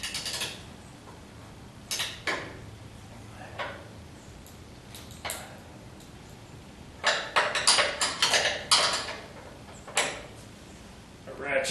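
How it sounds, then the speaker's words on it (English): Ratchet tightening a jam nut on the upper control arm bar of a 1976 Corvette restomod, heard as short bursts of metallic clicking in clusters, with occasional scraping against a bracket, fairly close in a quiet workshop. "ratchet's bumping up against the bracket, so I'm trying not to scrape it"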